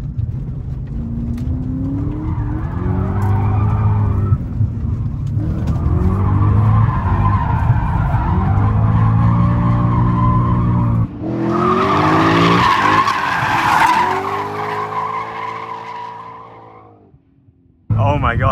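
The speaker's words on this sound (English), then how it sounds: "this car is amazing to drift" A BMW M5 E39's engine revs hard while tires squeal and skid through a long drift, loud and close, the motor rising and falling before cutting off near the end.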